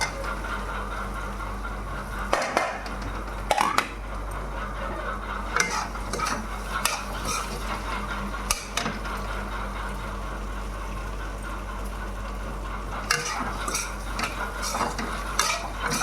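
Potatoes roast in a pan over low heat under a steady soft sizzle, as a spoon stirs with intermittent metallic scrapes and clinks, close and without talk, over a persistent low hum.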